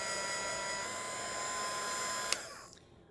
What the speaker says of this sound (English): you can actually speed up the process with a hairdryer or a heat tool.